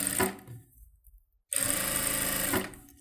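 A sewing machine runs in two bursts while stitching the neckline of a saree blouse, a short run followed by a pause and then a longer steady stretch of close, loud whirring.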